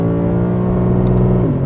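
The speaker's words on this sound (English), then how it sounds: "Let's downshift this 8-speed and get it into the right." A 2021 Lexus RC F Track Edition engine revs hard and steady through an 8-speed downshift, loud and close with a sustained high-revving drone and a brief pitch drop near the end.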